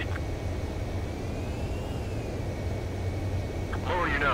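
Jet aircraft on landing approach in Ace Combat 7, a steady engine drone with a slowly shifting whine running throughout, with a brief rising tone near the end.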